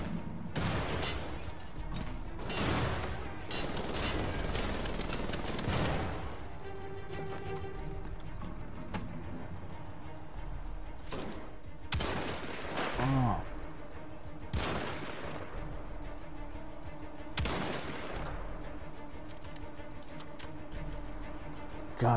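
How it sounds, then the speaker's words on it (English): Repeated gunfire from the shooter Wolfenstein: The Old Blood, loud bursts and single shots spread across the stretch with explosions and game effects, someone talking over the action at times. "I feel so powerful with when I reload this gun and I shoot it"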